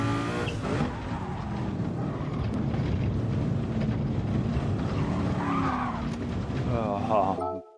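A race car brakes hard and skids on the Nordschleife in a racing video game, its engine roaring steadily under continuous tire squeal for several seconds before cutting off, loud and close, with a voice talking over it.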